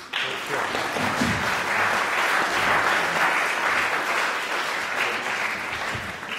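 Audience applause in a conference hall welcoming speaker Joan Clos at a cities and climate change event, a sustained dense clapping from a room full of people, steady throughout.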